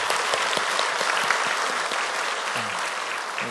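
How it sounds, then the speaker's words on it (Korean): A church congregation applauds in celebration after members are received into the church, a dense, steady wash of clapping from many hands that holds evenly throughout. "축하의 박수 부탁드립니다."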